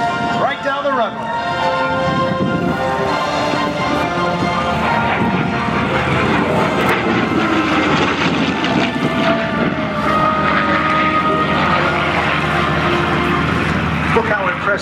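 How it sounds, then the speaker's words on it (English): A P-51 Mustang propeller warbird roars down the runway and climbs away at an air show, its steady piston-engine drone loud and sustained throughout, with an announcer talking over it. "How she climbs, the music she makes. B-51 Mustang, flown by R.T. Dixon in this tribute today."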